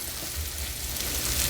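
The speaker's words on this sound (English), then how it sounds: "I'm going to just stir again." Apples frying in a pan over low-to-medium heat, a soft steady sizzle with faint stirring movement, quiet and close with no talking.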